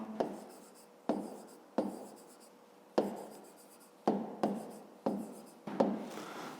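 A pen or marker writes out a math solution on paper, quick scratchy strokes in about seven short bursts, each starting sharp and fading, close and quiet with no voices.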